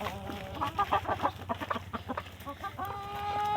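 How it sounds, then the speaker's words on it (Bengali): Pet desi hens cluck and chatter close by in a busy, uneven run of short calls, with a few longer tones toward the end. "আমার এই অবুঝ প্রাণী মুরগিগুলো যেখানেই থাকুক না কেন আমি ডাকলেই ছুটতে চলে আসে।"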